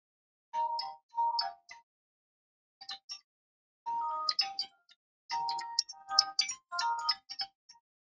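A phone ringtone plays a bright, chiming melody in repeated bursts of tones separated by short pauses, fairly faint and clear against a quiet background, with no speech over it.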